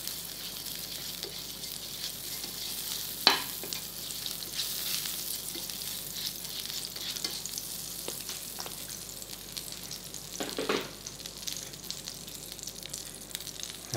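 Butter sizzles gently in a frying pan, a soft continuous crackle with a couple of brief clinks and scrapes along the way.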